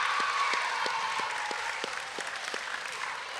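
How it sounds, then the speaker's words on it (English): A school audience applauds for teachers and staff, a dense, lively clapping that carries steadily for several seconds with some cheering mixed in, then eases slightly toward the end. "One last big cheer for all our teachers and staff and everything."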